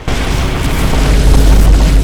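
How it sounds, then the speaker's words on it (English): Vine boom sound effects standing in for explosions in the factory-building game Factorio, as loud, heavy, overlapping deep booms that form a continuous rumbling roar. "the replacement of explosion sounds with vine booms"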